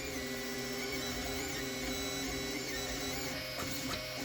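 A CNC plasma cutting machine runs steadily up close, a loud continuous mechanical drone with tonal whine, brief sharper bursts near the end.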